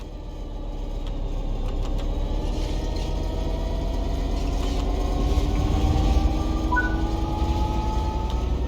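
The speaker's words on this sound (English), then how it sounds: "Apply some throttle to get the train moving." Simulated train in Train Sim World 3 pulling away under throttle, a loud steady low engine rumble with rising whining tones as it speeds up, plus faint rhythmic clicks, no talk.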